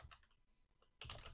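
Keys on a computer keyboard are tapped in quick, soft clusters, with a brief pause and then a louder burst of typing.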